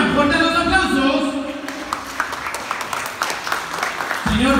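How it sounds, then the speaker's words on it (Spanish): Guests applaud at a quinceañera celebration, a dense wash of clapping running under an emcee's amplified voice throughout, with party noise around them. "¡Fuertes los aplausos!"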